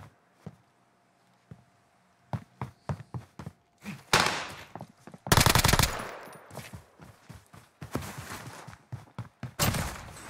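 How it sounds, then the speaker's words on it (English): Bursts of automatic gunfire and single shots in a first-person shooter video game, sharp repeated cracks in irregular clusters, some loud and close, others fainter, with thumps between. "He's shooting at you."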